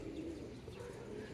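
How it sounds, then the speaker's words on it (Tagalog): Pigeons cooing at a pigeon racing loft during a 100 km training toss, with soft repeated low coos close by and a faint chirp over steady outdoor background noise. "inaaway pa pala ng ibon na yun sa taas"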